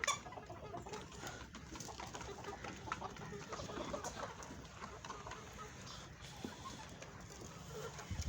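Golden Misri Australorp cross hens, young laying starters kept in Sargodha, clucking softly and intermittently in a low, busy background of farmyard bird noise.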